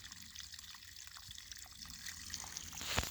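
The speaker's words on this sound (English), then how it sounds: "this little spring comes out of here" Small spring trickling out of the ground beside a coal mine site and running into a creek, a steady soft watery hiss throughout, close and fairly faint, with a brief louder splash near the end.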